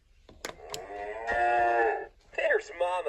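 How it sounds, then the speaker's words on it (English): A cartoon cow moos in a Peppa Pig farmyard barn scene: a long, loud, tonal moo followed by a shorter one, with a few light clicks before it. "There's Mama Cow."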